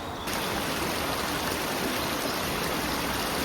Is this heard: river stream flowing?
yes